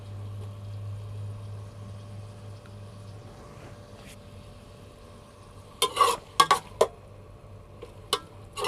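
Capsicum and potatoes fry in a pan for a shimla mirch aloo dish: a faint, steady sizzle under a low hum, then a few sharp clinks and scrapes of a spoon stirring against the pan.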